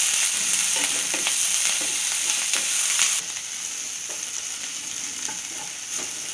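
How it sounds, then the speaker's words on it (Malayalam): Onion, tomato, curry leaves and coriander sauté in a hot pan for chapathi kothu, a steady close sizzle with intermittent stirring scrapes, slightly quieter in the second half. "ഇനി നമ്മൾക്ക് ഇതിലേക്ക് തക്കാളിയും കറിവേപ്പിലയും മല്ലിത്തഴയൊക്കെ ഇട്ടിട്ട് ഒന്നുകൂടി വഴറ്റിയെടുക്കാം"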